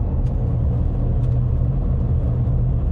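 A Toyota bZ4X 2WD electric car accelerates with a steady low road rumble and faint hum throughout, fairly loud and constant, with no clear engine note.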